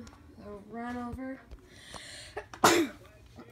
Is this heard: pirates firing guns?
no